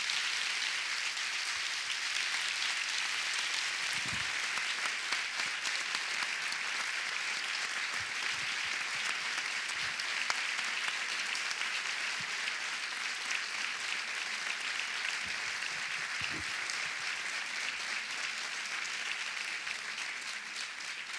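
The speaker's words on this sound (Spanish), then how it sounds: "un aplauso a Pepa Bueno, que es un honor tenerla aquí" An audience at a public talk gives long, steady applause, a dense and even clatter of many hands continuing for about twenty seconds with a few scattered louder claps and thumps.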